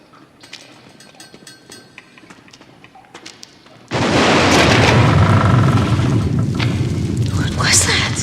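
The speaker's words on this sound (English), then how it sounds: "For weeks now, these explosions have grown louder and closer." A deep explosion from underground excavation in a TV drama hits suddenly after quiet, rumbling loudly and continuously with heavy low-end roar for several seconds.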